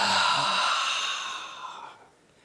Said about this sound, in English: I'd like you to take a deep breath in